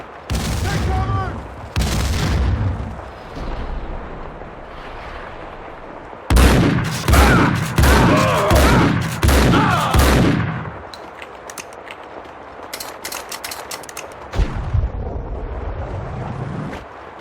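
Loud grenade blast followed by bursts of rapid gunfire in Max Payne 2 on Xbox, a heavy boom then a cluster of crackling shots, with shouted voices around the action.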